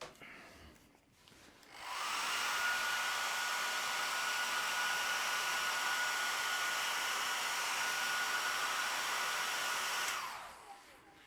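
A cheap pound-shop hair dryer, used in fishing rod building, switches on and blows with a steady, loud whirring hiss for several seconds, then shuts off.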